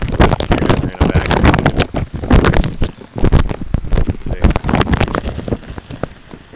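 Heavy rain pours down on a California mountain road, loud and close, with dense irregular patter and spattering drops striking nearby surfaces.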